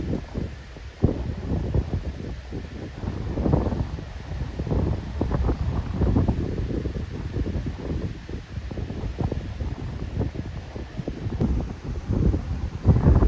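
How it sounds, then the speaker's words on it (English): Strong wind buffets the microphone in loud, rumbling gusts that roar on without pause, with no one speaking. "I know it's super windy."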